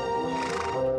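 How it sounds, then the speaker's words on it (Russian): A cartoon horse neighs in a Lego circus cartoon, one continuous bright whinny with rich harmonics lasting about a second, loud and close with no talk over it. "лошадка Белла"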